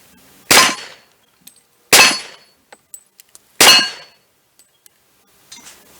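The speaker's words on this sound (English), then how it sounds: "And that plate is just swinging." A swinging steel target plate rings out with three loud, sharp metallic clangs, each hit by a heavy 230-grain pistol slug and each followed by a short ringing decay, with faint small clinks in between.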